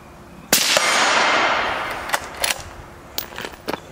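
A bolt-action rifle that takes standard AR magazines fires a loud, sharp shot with a long echoing decay, followed by several fainter, scattered cracks and clicks.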